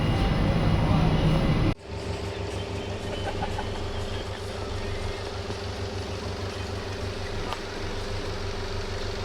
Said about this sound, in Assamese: বন্দে ভাৰত ট্ৰেইন আহি গ'ল।